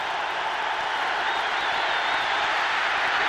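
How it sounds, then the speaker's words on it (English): A dense, steady roar from a packed football stadium crowd during the 1992 Rams at Cowboys game, a continuous wash of noise holding loud and unbroken throughout. "now the crowd's going to be all over Everett, making it very difficult to get his signals called"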